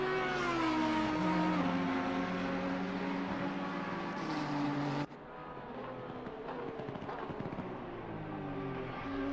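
Race car engines roar loud and steady in the Assetto Corsa Competizione game at Kyalami as a Ferrari chases closely behind, tonal engine whine holding and shifting pitch, with an abrupt drop in the sound partway through.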